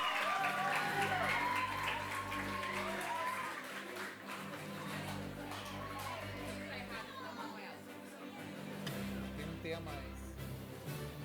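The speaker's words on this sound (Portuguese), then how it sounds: "Uma salva de palmas para as professoras." Audience applause for the teachers at a Câmara Jovem youth council school ceremony, a steady wash of clapping mixed with crowd chatter and some cheering, moderately loud and continuing throughout.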